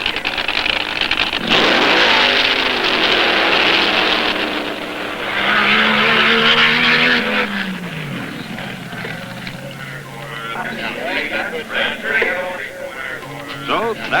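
A Top Fuel dragster thunders down a quarter-mile strip on a smoky solo run at the NHRA Winter Nationals: a sudden loud engine roar rising then fading into the distance, with crowd or announcer voices beneath.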